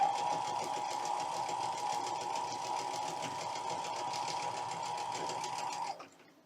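A sewing machine strains through bulky layers of cotton fabric, humming at a steady pitch for about six seconds and then cutting off, heard close with no voices.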